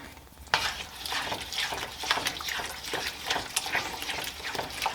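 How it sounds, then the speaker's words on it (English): Meat sauce mixed with grated Parmesan stirred in a pot for lasagna, giving a steady wet scraping and soft sizzle that runs the whole time, close and moderately loud, with no talking. "we're just going to stir this until it is mixed with our sauce"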